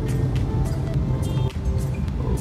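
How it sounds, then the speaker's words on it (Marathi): Morning rush-hour road traffic with office commuters: a steady, fairly loud wash of vehicle engines and road rumble, with passing cars swelling and fading throughout. "बऱ्यापैकी ट्रॅफिक, ऑफिसला जाणाऱ्यांची ट्रॅफिक आहे."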